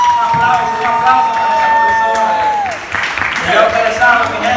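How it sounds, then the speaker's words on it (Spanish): Wedding guests break into applause and cheering in a reception hall, a dense crowd sound layered over sustained music tones, with a pitch sliding down midway before the clapping swells again. "Un aplauso, para esa"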